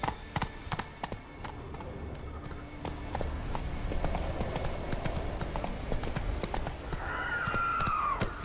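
Horse hooves clip-clop at a steady trotting rhythm in The Witcher 3: Wild Hunt on PS4, close and continuous over a low ambient bed, with a faint whinny-like tone near the end.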